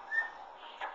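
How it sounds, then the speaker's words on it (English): A young boy whistles close by, one thin breathy tone that wavers, then a brief softer breath at the end. "Mason's gonna whistle."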